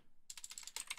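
Quick, light typing on a computer keyboard, a brief burst of close clicky keystrokes that starts after a short silence and runs in an uneven rhythm.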